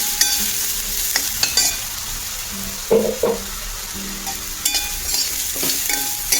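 Misal ingredients roasting in oil in a pan, a soft continuous sizzle broken by scraping stirs and a few sharper clatters of the spoon against the pan.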